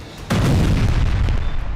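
A single loud, deep boom from an explosion in Las Vegas on New Year's Day, a heavy blast that lingers as a rumbling roar for more than a second.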